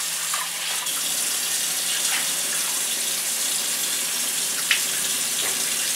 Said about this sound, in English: So wash off any sand or something if the packet is dirty. And this will make the rice cleaner.